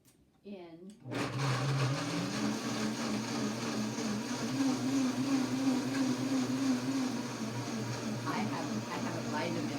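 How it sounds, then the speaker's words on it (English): A Vitamix blender starts up after a brief voice and runs steadily at high speed blending soaked almonds, a loud continuous whirring grind that persists to the end. "I have a Vitamix, but you can do it in any kind of blender."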